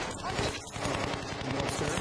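Gunfire erupts after an order to fire: a rapid, steady rattle of shots over two seconds, loud and dense, with faint voices mixed in.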